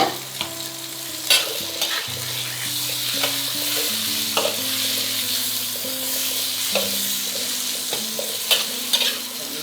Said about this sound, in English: Then later, add the lean pork and stir fry briefly.